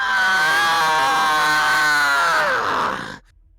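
A voice imitates a blood-curdling scream, loud and sustained, with a wavering, strained pitch that slides downward before cutting off abruptly into near silence.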